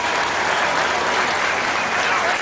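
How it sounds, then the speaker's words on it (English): Crowd applause at an outdoor tractor pull, a dense, loud, continuous roar of clapping with no break. "let's give another nice round of applause to Tim Jansen."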